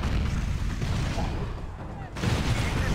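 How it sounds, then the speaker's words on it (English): Missile launches and explosions in the video game The Incredible Hulk Ultimate Destruction, a dense rumbling barrage that briefly dips and then returns with renewed booming blasts. "Time for some missiles of my own."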